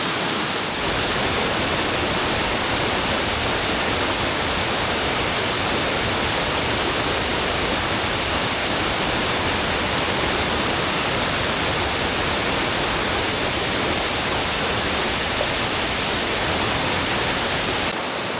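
Water rushes steadily down a stream and over the falls at Indian Flats on the Middle Prong Trail in the Smoky Mountains, a loud, dense, unbroken roar close by with no other sounds.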